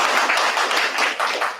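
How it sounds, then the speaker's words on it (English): Audience at a town hall board candidates night clapping together, a brief, fairly loud round of hand claps from a roomful of people that tapers off. "Give me a clap if you hear me and you understand."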